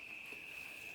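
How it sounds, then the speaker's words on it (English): Cicadas emerging in hot summer weather give a thin, steady high-pitched drone, faint and unbroken throughout, with no other sounds and no voices. "So that's why the cicadas are coming out the ground."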